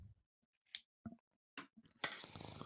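Scissors snip through a shoelace, a few quick close crisp clicks and cuts followed by brief rustling.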